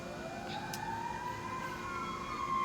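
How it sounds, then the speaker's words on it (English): Sirens wail faintly in the distance, their pitch sliding upward over a low background hum. "There's always a lot of sirens around here"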